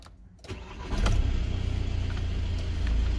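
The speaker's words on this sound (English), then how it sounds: "Just start the car up." A 2015 Volkswagen Tiguan 2.0 TDi diesel cranks briefly and catches, settling into a steady low idle rumble heard from inside the car.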